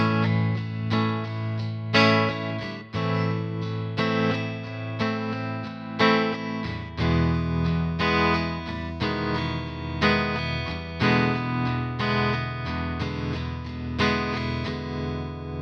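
Electric guitar run through effects strums a bridge chord progression for a Christmas song, steady rhythmic chords ringing out loud and close with no talking.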